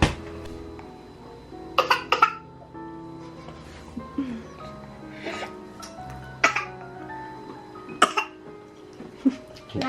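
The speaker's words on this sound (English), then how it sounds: "You choking on your carrot juice there" A child coughing and choking on carrot juice, several sharp bursts of coughing scattered through, with household clatter and other sounds in between.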